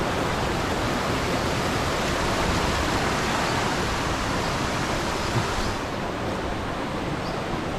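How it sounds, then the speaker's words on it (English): A waterfall in Thailand roaring steadily and close by, a dense, unbroken rush of water that masks everything else. "Level 5 of the waterfall."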